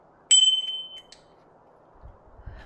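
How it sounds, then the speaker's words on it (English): Bicycle bell on a 2024 YT Decoy Core 4 electric mountain bike, struck once with a bright, clear ding that rings out and fades, followed by a faint second tap and some soft handling noise. "Bell."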